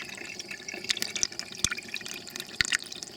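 Coolant trickling and dripping from a Dodge Grand Caravan thermostat housing drain plug while the cooling system is filled, faint irregular splashes with a few sharper drips.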